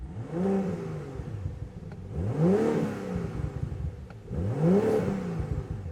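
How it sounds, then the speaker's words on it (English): A 2023 BMW M340i xDrive exhaust revs hard three times, each rise snarling upward and falling away with crackling overrun between bursts, close and loud. "Nice bit of overrun and no rev limiter as well"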